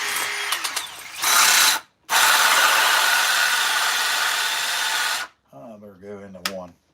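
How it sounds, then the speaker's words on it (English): A battery-powered drill bores a hole into wood at chainsaw-carving work, with two long steady whirring runs split by a short pause, followed by a voice speaking. "Hopefully it's got enough battery to drill this hole."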